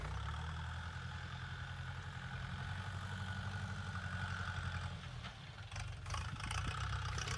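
A rough, throaty diesel engine of a Dongfeng 404 tractor with a gutted exhaust idles steadily nearby, its loud unmuffled rumble rising slightly mid-way.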